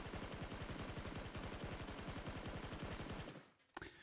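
Rapid automatic fire from a SCAR assault rifle in PUBG rattles in a fast, even stream of shots for about three seconds, then stops, followed by a brief mechanical click.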